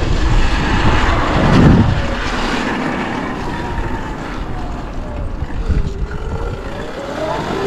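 A Sur-Ron electric dirt bike rides along with a rising and falling whine under strong wind rush, and the motor pitch sweeps up and down as the rider changes speed.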